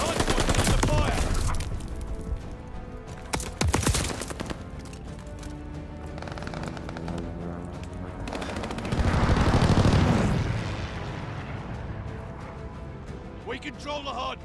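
Rapid automatic gunfire and bursts of shots from the Call of Duty Vanguard video game, loud and dense at the start with heavy booming volleys midway, under an in-game announcer voice calling out hardpoint status.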